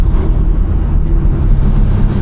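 Toyota GR car with air suspension driving on the Mandalika race track, a loud continuous low engine and road roar that holds steady throughout without a break.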